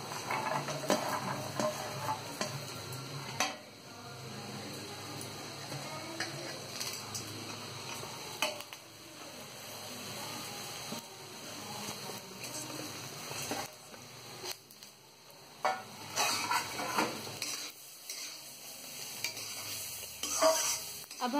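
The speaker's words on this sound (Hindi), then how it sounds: "अब हम इसे अच्छी तरीके से मिला लेंगे और अच्छी तरीके से इसे फ्राई करेंगे।" Rice with peas, grated carrot and green and black cardamom being stirred and fried in a kadhai for matar pulao, giving steady scraping stirs over a soft sizzle, with clatter and no talk.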